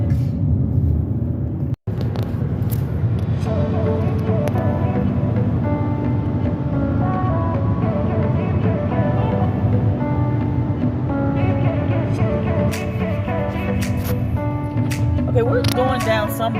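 A car driving along a back road near Peoria, steady low engine and tyre rumble from inside the cabin, continuous and fairly loud, with a short dropout early on and music or voices faintly layered over it.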